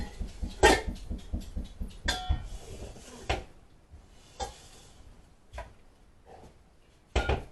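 Bowls and dishes clatter in a home kitchen during pizza bread prep, with a series of sharp knocks and clinks spaced irregularly, some louder thuds among quieter taps.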